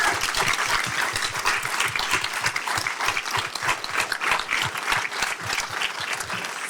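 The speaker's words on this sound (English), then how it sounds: "let's give one last round of applause for our amazing cohort." A full audience applauds the foster youth intern cohort at a congressional briefing, with dense, steady clapping that holds loud and even for several seconds and no pauses.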